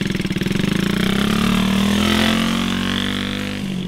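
Small motorcycle engine running steadily in first gear while a beginner rider moves slowly, a continuous mid-pitched drone that rises slightly in pitch and then settles, close and fairly loud, with no talk.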